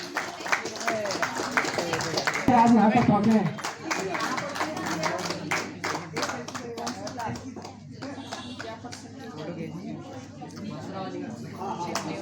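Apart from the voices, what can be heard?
audience applause welcoming a guest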